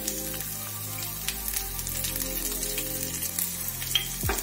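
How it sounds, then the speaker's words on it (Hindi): Boiled chickpeas frying lightly in leftover oil, a close continuous crackling sizzle with occasional stirring scrapes and a steady background hum, no voices. "अब हम उसी में चने भी फ्राई कर ले रहे हैं"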